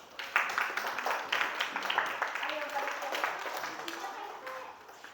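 Classroom applause during a lesson in Indonesia, a dense patter of many hands clapping steadily for about five seconds with voices mixed in.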